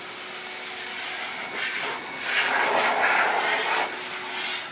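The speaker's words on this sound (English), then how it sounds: "Hot air dry." Hot air dryer in an automatic car wash bay blowing a loud, steady roaring hiss that swells midway, with no talk.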